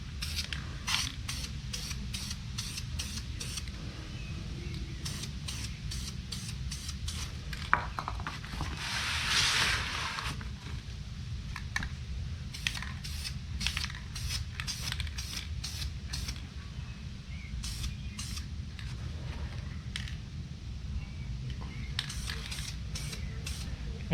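Aerosol paint sprayed onto a brake caliper during a rear brake job on a Suzuki Kizashi, in many short, light bursts with brief pauses between them, over a steady low hum.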